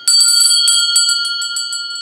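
A bright metallic notification bell rings alone in quick repeated dings, clear and close, each strike leaving a sustained ringing tone that slowly fades.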